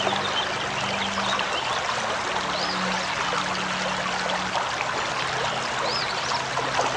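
Water trickles and splashes continuously in the video game Anna, a steady babbling stream with no pauses throughout.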